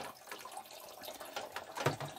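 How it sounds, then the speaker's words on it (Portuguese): Water keeps trickling out of an RO/DI filter system after its supply is shut off, a faint, uneven splashing with a brief louder gush near the end. "Ainda está descendo água, né, porque o sistema ainda não desarmou"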